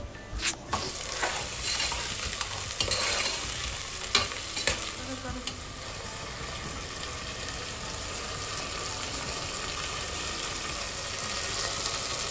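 Frozen meat pieces hiss and sizzle steadily in a hot pan, with scattered clinks and scrapes of stirring early on, then an even, continuous frying sound with no voices.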